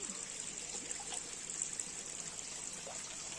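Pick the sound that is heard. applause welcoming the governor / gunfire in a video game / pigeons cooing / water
water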